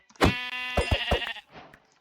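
A single sheep in Minecraft gives a loud, close, wavering bleat lasting about a second, followed by a softer trailing rustle.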